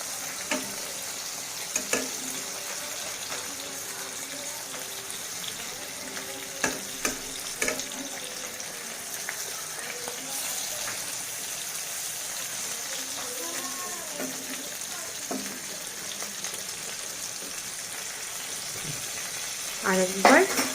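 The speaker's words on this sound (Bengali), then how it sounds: "এবার পালা শুধু হালকা করে অপর সাইডটাকে ভেজে নেওয়া" Shrimp paturi wrapped in bottle gourd leaves fries in a pan with a steady low sizzle, broken by occasional clinks and scrapes, and a louder burst near the end.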